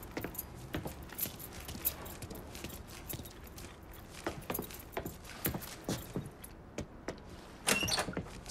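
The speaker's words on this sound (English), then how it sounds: "Keys in the other room. Grab them so we can get the hell out of here." Keys jangle and rattle in repeated metallic bursts as they are grabbed in the Mafia 3 video game, close and fairly loud, with a busier cluster near the end and no talk.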